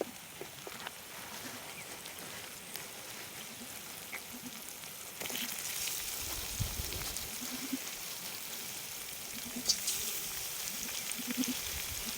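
Chicken sizzles and fries in a pan of hot oil for a chicken curry cooked at a campsite. A steady crackling hiss runs throughout and grows louder about halfway through, with no talking.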